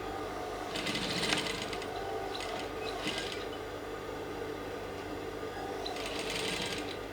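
A sewing machine stitches pleats on a white sutana garment, producing a soft mechanical whirring and clattering with bursts of faster stitching between pauses.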